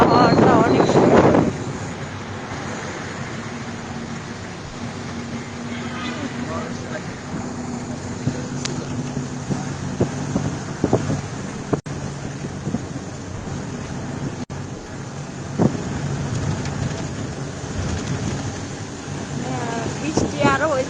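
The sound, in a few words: cold wind blowing past a moving bus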